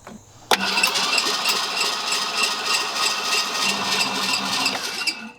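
An old Ford F-250 left abandoned for 21 years cranks over steadily, a loud continuous whirring starter churn with a rhythmic pulse that begins abruptly and runs nearly the whole time without catching.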